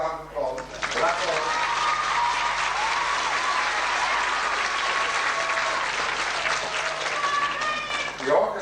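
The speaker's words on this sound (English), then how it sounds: "give a round of applause" Sustained audience applause fills a hall at a Wexford Tops of the Town variety show, steady and dense for several seconds before tapering off, with faint music tones and a voice near the end.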